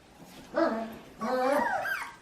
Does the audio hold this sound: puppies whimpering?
yes